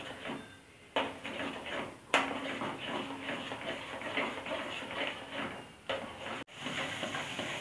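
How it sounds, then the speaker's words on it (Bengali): Spoon stirring milk cream in a pan over low flame while making ghee, a steady scraping and bubbling sizzle with a few sharper knocks of the utensil against the pan. "এবার সমানে লো ফ্লেমে সমানে এইভাবে নাড়তে হবে।"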